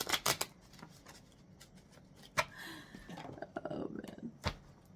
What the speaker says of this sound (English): I guess I'll shuffle it a couple of times.